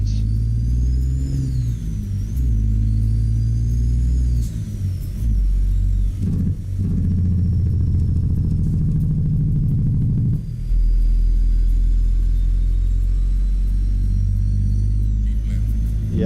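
A heavy truck engine in the American Truck Simulator game rumbles low and steady throughout, with shifting harmonics as it revs and settles, a brief dip near the middle before the drone returns loud and close.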